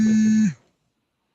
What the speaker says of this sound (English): Alarm. Someone's calling me.